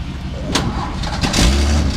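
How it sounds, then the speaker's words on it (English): A car engine cranks and catches after a fresh motor swap, with a short, loud, rough churn that settles into a low rumbling idle, heard close up. "Fresh motor swap, starts right up."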